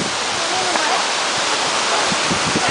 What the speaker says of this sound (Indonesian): kita sekarang sudah berada di Air Terjun Ciberem